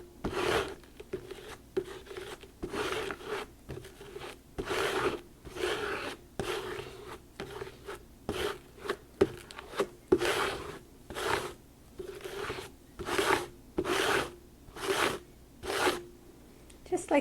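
Texture paste spread through a stencil and scraped off a craft card, heard as repeated rasping scrape strokes in a steady rhythm, close and fairly quiet, growing more regular toward the end.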